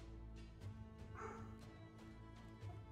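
A pet dog barks a few times in short yips somewhere in the background, faint and distant beneath steady music from the video game Emberward.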